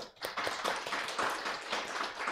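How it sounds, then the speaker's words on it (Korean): A congregation at a Korean church Sunday service claps together in a steady, dense burst of hand claps that carries on for a couple of seconds with no talking. "자, 한번 박수 한번 쳐볼까요?"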